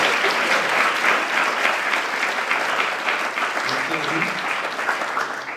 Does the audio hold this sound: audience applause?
yes